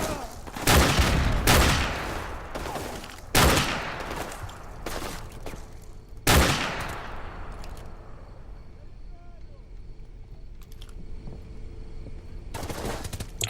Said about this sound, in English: this gun's bullets sound sharp